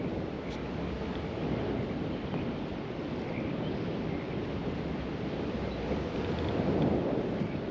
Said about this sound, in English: Yeah, so that's like a west wind, I think.